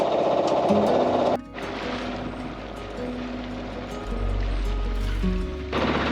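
Sailboat motoring under engine power, a steady loud drone with a rough pulsing rumble and wind or water noise, briefly dipping before the engine tone deepens and continues.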